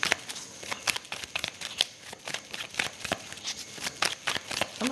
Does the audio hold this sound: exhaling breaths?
no